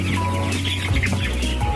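Broiler chickens about 20 days old cluck and murmur steadily in a dense flock inside a closed poultry house, a continuous overlapping chorus with occasional sharper calls, close by and fairly loud.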